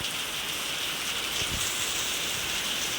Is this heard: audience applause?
no